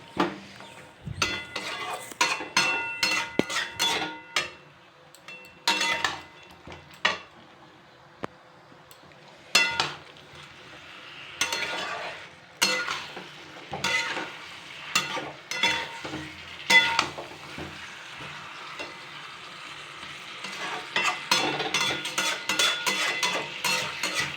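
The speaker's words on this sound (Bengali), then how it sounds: "আমি সব কিছু দিয়ে এখন ভালো করে আবার কষিয়ে নেবো এখন পুরোপুরি কষাতে থাকবো" Bengali-style mutton curry with potatoes being sautéed and stirred in a pan: repeated scraping strokes and metal clinks of a spoon over a low, steady sizzle, close and intermittent.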